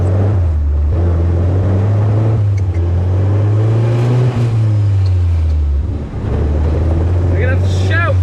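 A loud Austin 7 Cambridge Special engine runs close by, its low drone rising and falling slightly, while people talk over it.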